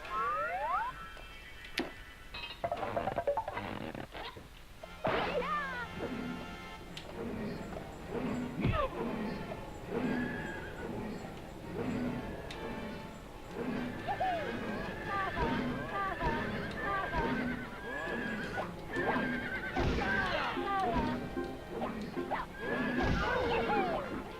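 Repeated horse neighs and whinnies over clip-clopping hooves in the video game Dream Story, with game-like effects and a person talking intermittently underneath.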